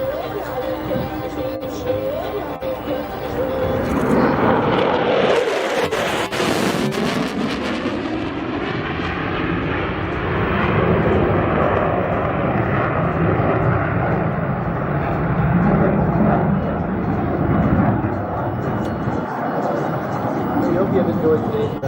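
An EA-18G Growler jet roars past at an airshow with afterburner lit, a loud sustained rumble that swells and fades, over crowd chatter and an announcer talking.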